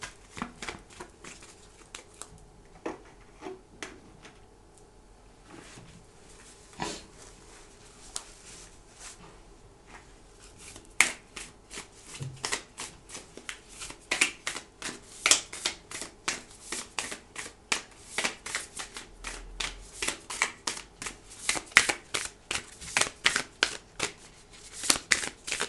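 Tarot cards shuffled for a general daily reading, a long run of crisp riffling and flicking bursts that start sparse and grow denser and louder toward the end, close by with no talk.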